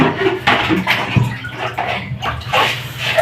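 Hot water splashing and running as a dog is bathed indoors, a continuous broadband wash with uneven surges and sloshes, close and fairly loud, with no talk.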